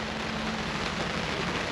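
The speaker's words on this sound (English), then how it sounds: "the rain is absolutely hammering it down now" Heavy rain pours steadily onto a campsite, a dense, even hiss that holds at a constant level throughout with no gaps, no voices and no other sounds standing out.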